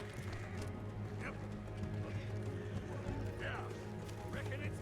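Horse hooves clip-clop in a steady gallop inside the Red Dead Redemption 2 video game, running continuously under a dense game soundscape with occasional whinnies, while voices talk over it.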